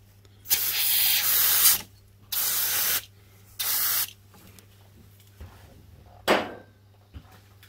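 Aerosol cleaner sprayed onto the engine parts of a Suzuki KingQuad ATV during a valve clearance check, in three long hissing bursts and one shorter sharp burst, close and loud over a low steady hum.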